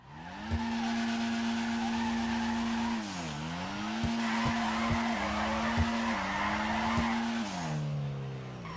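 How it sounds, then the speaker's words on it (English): A car drifts in GTA 5 under power, its engine droning steadily while the tires squeal and skid through a long slide, with the pitch dipping and rising at several transitions and occasional sharp bumps. "initiating oversteer as much as we can while staying on the power to get the car sliding"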